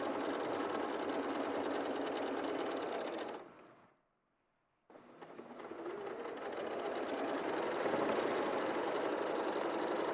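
A sewing machine stitching at steady speed, a continuous buzzing needle rattle that stops for about a second while fabric is pivoted, then resumes and gradually builds a little faster, close and alone.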